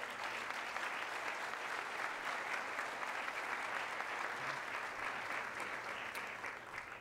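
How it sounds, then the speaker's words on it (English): An audience at a history lecture on the 1866 Memphis race riot claps warmly, a dense, sustained round of applause that stays even throughout and eases slightly at the end. "Let's give them a round of applause."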